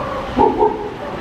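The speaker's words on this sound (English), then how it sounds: "Sounds more like a little puppy." A small dog gives two short, high yipping barks, close and fairly loud, sounding like a little puppy, with a faint murmur of the surrounding crowd.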